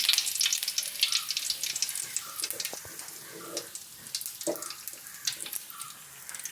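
Mustard seeds, cumin and curry leaves sizzle steadily in hot oil, with crackling pops and bursts throughout, moderately loud and close, and no talking.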